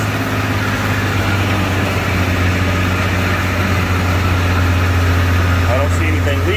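A Ford Ranger pickup's engine idles steadily after being started, a low constant rumble that runs without a break, with faint voices talking over it.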